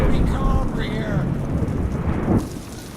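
Rain pours in the Sherlock Holmes: Crimes and Punishments video game, a loud, rumbling wash, with faint tonal game sounds over it before it suddenly drops away near the end.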